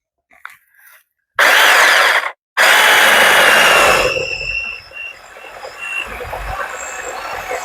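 A TIETOC handheld saw cutting through the base of a small, dying tree about 1.5 inches thick: two loud bursts of rasping cutting, briefly broken by a pause, then dropping to quieter rustling outdoors.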